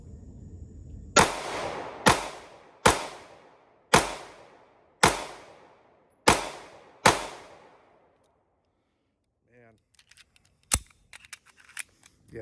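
Remington R51 pistol firing steel-cased ammunition, seven sharp loud shots in a steady rhythm at roughly one-second intervals, each with a short decaying echo, followed by quiet handling clicks and one more sharp report.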